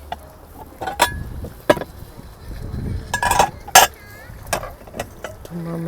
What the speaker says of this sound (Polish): Garnek emaliowany.